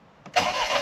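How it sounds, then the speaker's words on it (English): A rare project car that had been crashed starts up: a brief crank catches at once and settles into a loud, steady running engine with no voices. "the engine starts, and starts well"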